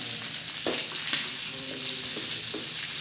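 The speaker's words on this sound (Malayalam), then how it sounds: "ഇനി ഇതെല്ലാം ഒന്ന് മിക്സാക്കി കൊടുക്കണം ഇതേപോലെ മിക്സാക്കാം ഇത് തിരിച്ചും മറിച്ചും ഇട്ട് കൊടുക്കണം" Chicken frying with chilli flakes and curry leaves is tossed and stirred in a pan, giving a constant close sizzle broken by a few soft scraping stirs.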